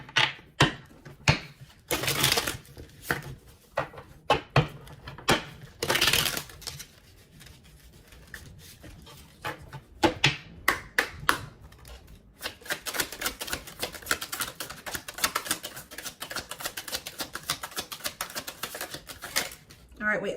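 Tarot cards being shuffled and drawn, with a burst of rapid riffling near the start followed by scattered soft slaps and flicks as cards are laid out, partly beneath a voice speaking.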